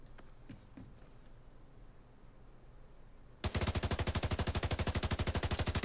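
The Eagle Bearer exotic assault rifle in The Division 2 opens fire after a few seconds of quiet game ambience, a loud rapid string of about two dozen evenly spaced shots in sustained full-auto.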